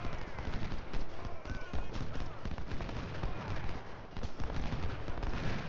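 Massed musket fire from soldiers in Ultimate General Civil War: dense, continuous crackling volleys of gunshots rolling on at a steady, moderately loud level, with no pause and some voice underneath.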